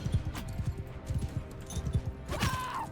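Horse hooves pound in a rapid, uneven galloping rhythm during a battle in the video game Mount & Blade II: Bannerlord, loud and close, with scattered clashing and a brief rising cry near the end.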